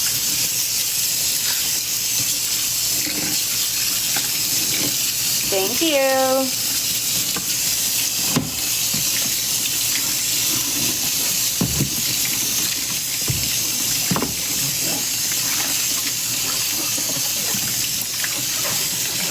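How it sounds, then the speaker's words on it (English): Water runs from a faucet while washing a load of laundry with powders, a steady broadband rush that continues throughout with occasional clunks and a brief voice over it. "let's turn that water on."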